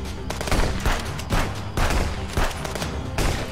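Gunfire in the video game Contraband Police during a checkpoint assault, repeated loud bursts of automatic shots in several rapid volleys, close and harsh with brief gaps between them.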